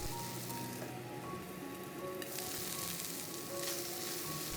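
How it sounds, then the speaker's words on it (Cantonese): Pork ribs and garlic fry in a wok, giving a steady, close sizzle that runs throughout, with a small shift in the texture of the hiss partway through and a faint tone in the background. "落蒜頭，另一面都煎下佢，"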